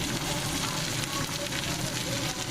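Onions sizzle and fry steadily in a hot pan as tomato and garlic paste are stirred in, a dense, continuous crackling hiss with no pauses.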